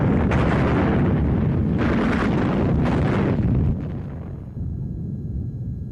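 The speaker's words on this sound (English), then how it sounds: "behind them, heavy artillery pounded the city center" Heavy artillery pounds the center of Berlin in a continuous deep rumble of blasts and roar that stays loud and dense, easing slightly toward the end, with no voices.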